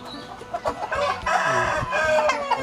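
Chickens on a Thai village farm clucking and calling close by, overlapping bursts of busy, loud fowl chatter with no talk.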